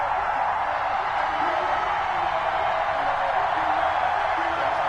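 Sold-out stadium crowd in an NFL video game roars steadily as the Bills take the field before facing the New York Jets, a dense, even wash of cheering that holds at constant loudness throughout.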